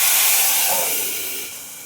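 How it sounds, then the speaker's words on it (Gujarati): A loud burst of hissing sizzle as a cumin tempering hits hot oil for a gravy, close by, fading gradually over a couple of seconds. "હવે ગ્રેવીનો વઘાર કરી દઈએ."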